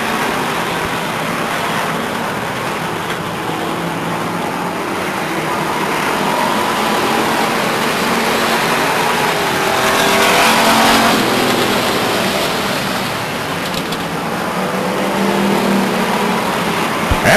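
Race cars roar steadily around the Stockton 99 Speedway oval, a loud, continuous engine drone that swells and fades slightly as the field passes, with no talk over it.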